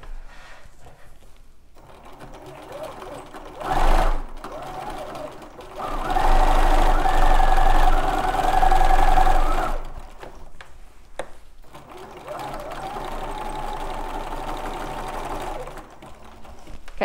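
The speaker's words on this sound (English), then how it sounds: "I'm gonna go ahead and just go down along the, um, the ditch, the seam line" A sewing machine quilting along the seam line (stitch in the ditch) on a quilt-as-you-go block, running in loud bursts of steady rapid stitching with pauses between, while someone talks quietly in the gaps.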